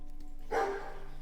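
A dog gives a single short bark at moderate distance, a brief burst set against low background hum and otherwise quiet surroundings.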